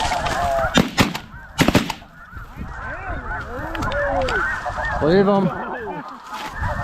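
Huge flocks of snow geese, with some Canada geese, on a conservation hunt: dense, overlapping honking fills the air throughout, punctuated by two sharp bangs early on, with a brief spoken phrase near the end.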